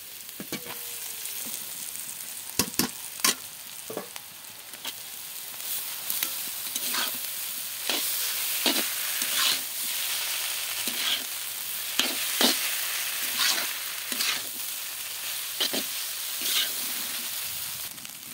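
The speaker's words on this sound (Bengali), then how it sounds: "সবজিটা মোটামুটি ভাজা হয়ে গেছে, নরম নরম হয়ে গেছে, দেখেছো? এবার এর ভিতর চাউমিন দিয়ে দেবো" Vegetables and chow mein stir-fry in a hot pan with a steady sizzle, while regular sharp scrapes and clacks from the stirring utensil strike the pan throughout, close and fairly loud, with no talking.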